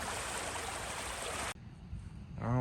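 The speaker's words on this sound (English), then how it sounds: "This water is flowing crazy fast into this drain." Fast-flowing water rushes into a storm drain at night in North Georgia, a loud, dense, continuous roar that drops suddenly partway through to a quieter background, followed by a brief low tonal sound.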